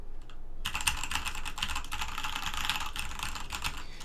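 Typing on a Corsair K70 Rapidfire mechanical keyboard with Cherry MX Speed switches, three years in use: after a brief quiet start, a rapid, continuous patter of close, crisp keystrokes runs steadily to the end with no talking.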